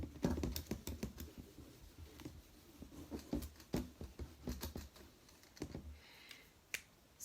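A board being erased during a history class, heard as soft scattered taps and brushing scuffs at irregular intervals, fairly quiet, with no talking.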